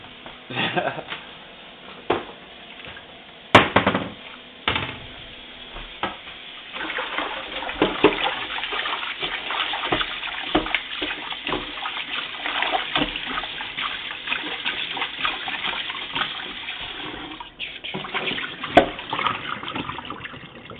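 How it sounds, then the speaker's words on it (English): Water runs from a kitchen sink tap into a bowl holding raw chicken, a steady splashing gush with sharp clatters and knocks of the bowl, close and fairly loud throughout. "that is the sink filling the bowl up with water"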